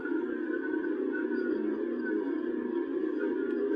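A dense, steady synthesizer feedback drone from a NoInputMixer iOS app hums continuously with a slightly wavering, layered tone, loud and unbroken throughout.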